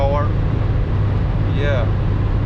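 Heavy, steady engine drone from a remapped 309 hp BMW X5 E53 4.4i V8 at full throttle on the Autobahn, loud and continuous, with a voice speaking briefly over the roar.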